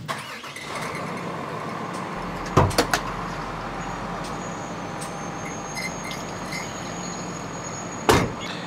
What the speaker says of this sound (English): we're going to go ahead and start the truck up